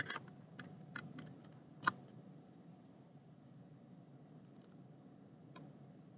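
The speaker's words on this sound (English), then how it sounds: "when I type on this keyboard, it thinks that there's something wrong" Sparse keystrokes on a computer keyboard during a programming lecture, a few scattered clicks in the first two seconds with one sharper tap, then near-quiet room tone and a final click late on.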